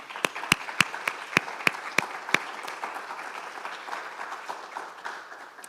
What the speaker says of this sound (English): Everyone is deserving of a round of applause.